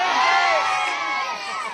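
A crowd at a dance show shouts and cheers in answer to a host, a loud, dense burst of mixed voices that includes high children's shouts, fading slightly toward the end.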